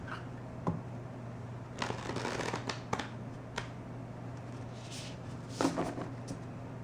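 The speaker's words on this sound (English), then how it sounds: "I usually just shuffle until I feel like I'm done shuffling." Tarot cards are shuffled by hand in soft riffling bursts with light taps, quiet and close, over a faint steady hum.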